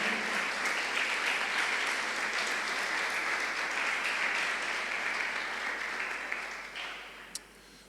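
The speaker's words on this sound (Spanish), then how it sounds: "Dale fuerte ese aplauso al Señor" Sustained, dense applause from a large church congregation, steady and loud, gradually tapering off toward the end.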